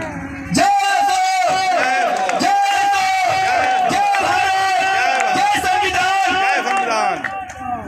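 A large crowd at a Buddhist gathering honouring Emperor Ashoka claps loudly and calls out together, with sustained voices in unison over a continuous run of clapping, close and full.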